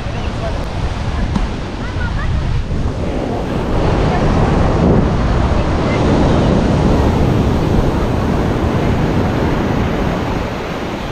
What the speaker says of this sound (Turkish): Mükemmel dalgalı bir deniz.